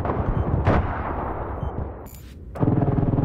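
A rocket fired in an online shooter game, a loud booming blast over a rumbling battle backdrop, followed by a brief lull and a second heavy roar near the end.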